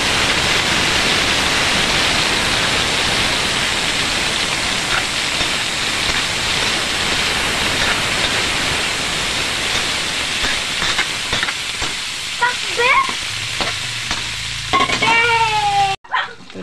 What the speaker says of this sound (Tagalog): Igisa na muna natin